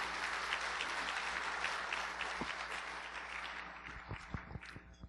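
A seated business audience at an executive breakfast lecture claps steadily to welcome a company chairman to the stage, a dense continuous applause that thins slightly toward the end.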